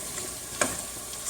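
Chicken frying in a pan with browned ginger and garlic, a soft steady sizzle with a brief stirring scrape near the middle, quiet and close with no talking.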